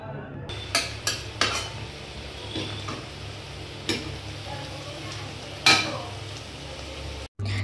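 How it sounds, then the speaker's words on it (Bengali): Dhania chicken is stirred in a pan over a low sizzle, with a few sharp clinks of a utensil against the metal and a soft steady frying hiss throughout. "নাড়িয়ে ওই 1 মিনিট মতো নাড়াচাড়া করে এটাকে ভালো করে চাপা দিয়ে দেব।"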